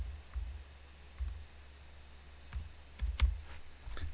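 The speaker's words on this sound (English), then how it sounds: "we're going to go in there and just type in what" A few sparse clicks of keys on a computer keyboard as a price is typed in, quiet and close, with short pauses between taps and a low steady hum underneath.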